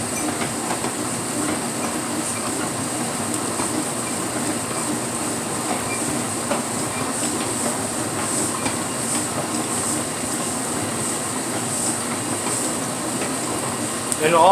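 A dough mixer runs inside a pizza truck with a wood fire oven, giving a steady, dense mechanical whir and rumble that holds evenly throughout, close and continuous, with faint talk beneath it.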